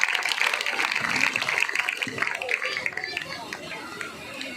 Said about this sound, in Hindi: मैं एक बार चाहूंगा जोरदार तालियों के साथ इस महान शख्स का स्वागत करिएगा।